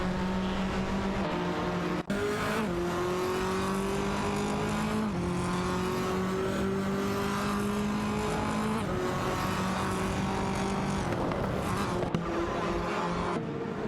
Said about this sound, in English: Paula Costanin, in the Alfa Romeo Giulietta TCR, is dueling it out with 13 Shinigami, in the Honda Civic FA for the 10th position